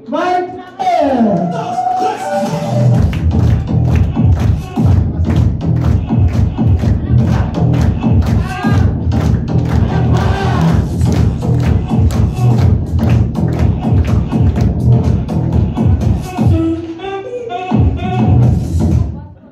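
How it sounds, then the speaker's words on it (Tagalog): A large audience at a leadership orientation training event claps loudly in a dense, steady burst that lasts throughout, with cheers and shouts mixed in. "okay lang ba na palakpakan natin yung maraming tao?"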